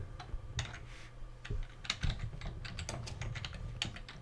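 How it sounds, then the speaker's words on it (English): Clatter of typing on a noisy computer keyboard, with rapid uneven keystrokes and a few heavier thumps running steadily throughout, picked up at a moderate distance with no talk. "I can hear him typing."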